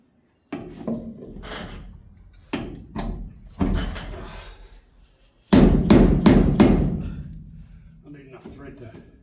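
Hammer taps knocking a vertical differential into place on an HQ GTS Coupe mounted on a rotisserie, several sharp close strikes in short bursts with ringing metal between blows, a loud quick cluster near the end.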